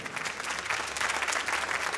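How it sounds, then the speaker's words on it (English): Audience applause fills a Gran Turismo World Tour event at the Nürburgring during the Manufacturer's Series final, a steady dense clapping from a crowd that holds at full strength throughout. "Can we have a round of applause for this guy?"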